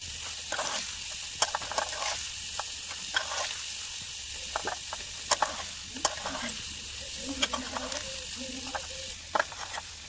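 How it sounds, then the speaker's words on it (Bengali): Potatoes fry in oil with crisp neem leaves, making a continuous close sizzle broken by repeated scraping and stirring of a spatula against the pan, with faint voices in the background. "আমি আলুটা ভেজে নিচ্ছি আর নিম পাতাটা একদম খড়মড়ো করে ভেজে নিয়েছি"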